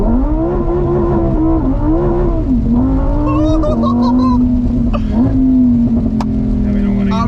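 A Lamborghini Huracan Evo rated at 600 hp revs loudly while driving, its engine note rising and falling through several pulls close to the microphone, with people talking over it inside the car.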